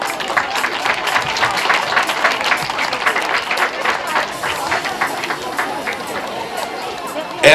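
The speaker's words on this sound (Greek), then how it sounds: "και ένα χειροκρότημα για όλα τα παιδιά." A crowd at a disability athletics meet claps for the children, sustained dense applause that carries on for several seconds with voices and chatter mixed in.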